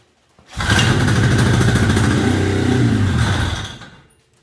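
A 1973 Columbia snowmobile engine catches after refuelling and runs loud and close for about three seconds with a rough, buzzing drone, then dies away.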